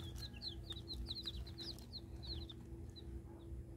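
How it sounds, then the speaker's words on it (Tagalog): Many day-old Brahma and native chicks peep in quick, high chirps over a steady low hum, a dense chorus of cheeping close by. "Brahma nga chicks og Bisaya nga chicks tapos duha"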